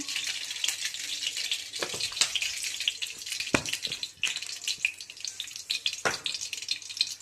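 Mustard seeds crackle and pop in hot oil with a bay leaf, for an Odia mushroom, green pea and potato curry; a steady sizzle is broken by sharp, irregular spits close by, with no talking.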